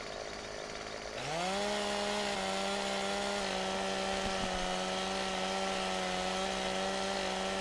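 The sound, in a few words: chainsaw cutting trees in the video game Farming Simulator 15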